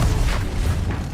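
Levioso levitation spell cast in Hogwarts Legacy, a dense booming magical burst with a deep rumbling low end and whooshing swells that fill the whole moment without any break.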